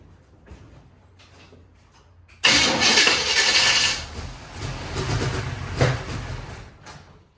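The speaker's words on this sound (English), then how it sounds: "Now I'm gonna see if this thing will fire." An old car engine cranks for several seconds without firing after gas is poured down the carburetor. A loud, rough, rumbling starter burst begins abruptly, then eases and surges before stopping.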